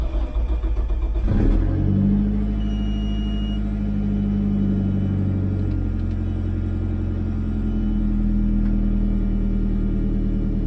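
A 2G DSM car engine cranks and catches, then settles into a steady, loud idle with a low rumble that holds close and unbroken.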